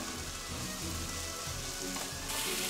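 Tomatoes cooking down in a Kerala fish curry (Molly Nirvana mappas), sizzling loudly and continuously like close rain, with soft stirring scrapes now and then and no voices.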